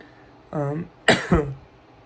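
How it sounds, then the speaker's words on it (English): A voiced throat sound is followed by two quick, harsh coughs close to the listener. "I don't know why I'm coughing so much right now"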